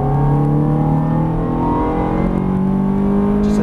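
A Ferrari F430 engine pulls hard at full throttle, its loud, close roar rising steadily in pitch as it accelerates without a break.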